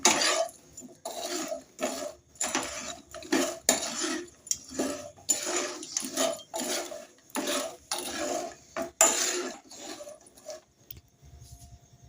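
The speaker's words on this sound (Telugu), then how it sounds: "ఇదైతే బాగా మిక్స్ చేసుకుందాం" Chicken pickle being stirred with lemon juice in a bowl, a steady run of metal spoon scrapes and clinks against the bowl, close and fairly loud, with brief pauses and no talking.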